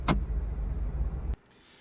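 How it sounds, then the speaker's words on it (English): MINI Convertible electric windows and folding roof in motion: a steady electric motor whir, close and alone, preceded by a short click, running about a second before stopping abruptly and leaving quiet. "all of the windows will go down firstly, and then the roof will fold into the top section just there"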